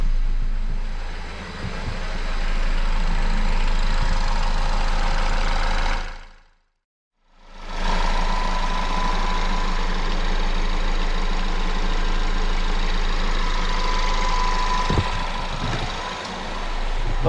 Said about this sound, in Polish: Niech się silnik zagrzeje